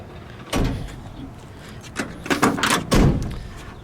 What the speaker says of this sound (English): May I open the door?